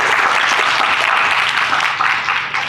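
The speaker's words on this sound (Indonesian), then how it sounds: "Tepuk tangan buat Atia" Audience applause at a talk, a dense, close, sustained clatter of many clapping hands that stays loud for the whole stretch.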